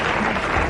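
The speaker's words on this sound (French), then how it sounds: "Nous applaudissons Madame Chemoul, elle l'a bien mérité." A brief burst of dense, loud audience applause in a French television studio, a steady wash of many hands clapping with no pause.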